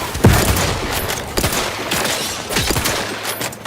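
Rapid gunfire from a weapon in the video game Outer Worlds 2, a loud, dense run of sharp shots that carries on for nearly four seconds with no talk.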